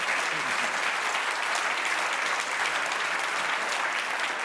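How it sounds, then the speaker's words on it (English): Warm, even audience applause after a talk by economist Daniel Waldenström in Berlin, continuous and dense, heard from a distance in a hall. "warm round of applause"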